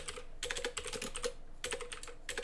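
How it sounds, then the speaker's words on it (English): Brisk typing on a computer keyboard in two bursts of quick, light key clicks, separated by a short pause, close and fairly quiet with no voices. "After my placeholder here, I'm going to start typing."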